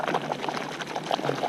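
Water splashes and pours continuously as beehive beetle traps are jerked back and forth in hot soapy water, with small gurgles and drips throughout.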